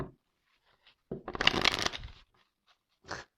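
Oracle cards are shuffled by hand in a short, close riffling burst lasting about a second. A few faint shuffles and taps come before and after it in an otherwise quiet room.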